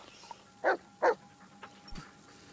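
Bullet the dog in the Blair Witch video game gives two loud, close barks in quick succession, followed by a few faint scuffs and small noises.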